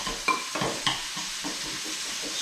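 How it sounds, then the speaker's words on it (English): Olive oil stirred with a spoon into a parsley, garlic, black pepper and mustard dressing: soft close scraping and a few light clinks of the spoon against the bowl over a faint background hiss, no talking. "stir it with a spoon as I put that oil through it"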